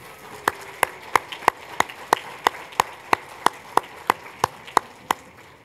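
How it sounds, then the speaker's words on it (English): Applause for presenters at the closing of a forum session at a hotel comes as a steady, evenly spaced run of sharp hand claps, about three per second, fairly close with a faint room murmur beneath. "Can I ask for another round of applause for our presenters today,"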